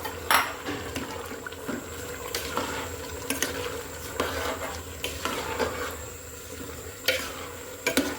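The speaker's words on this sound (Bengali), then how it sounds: "মাংসের কিমার সাথে পেঁয়াজ ফুল আর পোলাও চালটা কিন্তু ভালো করে মিশিয়ে নিচ্ছি।" Beef mince being stirred together with fried onions and polao rice in a pan for beef keema biryani: repeated scraping and clinking of a spoon against the pot over a soft, continuous sizzle.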